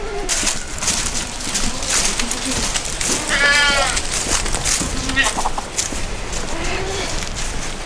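Goats on a farm where a goat has just given birth bleat in several short calls over steady outdoor background noise, with birds around and a person speaking in between.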